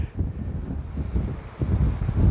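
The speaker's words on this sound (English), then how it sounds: "It's a little windy" Gusty wind buffets the microphone in uneven low rumbling bursts, rising and falling, with a faint watery wash underneath.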